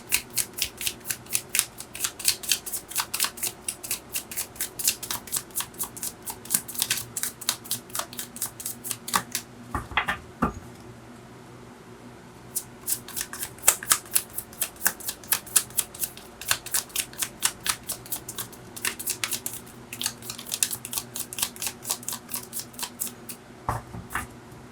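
Tarot cards are shuffled by hand in a steady, quick run of crisp riffling flutters and soft slaps, close and fairly loud, with one brief pause partway through and no speech.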